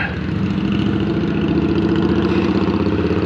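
An Indian Scout motorcycle engine with aftermarket exhaust idles close by, a loud, steady low rumble with a rapid pulsing throb throughout the short stretch.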